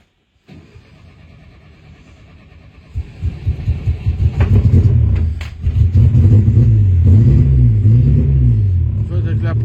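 A Renault 16 engine is restarted after 20 years of disuse: the starter cranks rhythmically, the engine catches, then revs loudly and unevenly while idling up close. A voice is heard near the engine.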